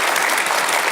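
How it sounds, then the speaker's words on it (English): Audience applause following a talk by Peter Thiel on Zero to One: a dense, steady wash of many hands clapping at once, loud and even for the full second. "give them a big applause"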